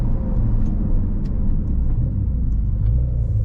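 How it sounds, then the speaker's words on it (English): A 2021 Porsche 911 Carrera 4S downshifting and braking, heard as a steady low engine and road rumble from inside the car with no talking. "Let's do a little braking test, shall we?"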